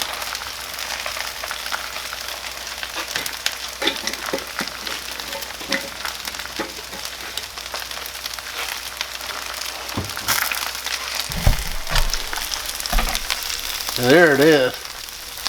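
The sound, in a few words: eggs frying on a Blackstone griddle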